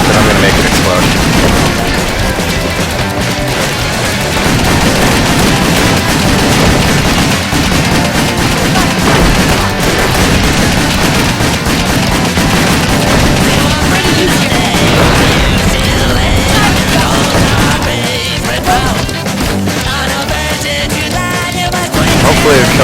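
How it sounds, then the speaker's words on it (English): An explosive barrel blowing up amid gunfire in the video game WET, heard as loud, dense bursts of shooting and booms running continuously for the whole stretch, with no talk. "You don't want to be near that barrel when it explodes. And it will explode. But I'm going to make it explode."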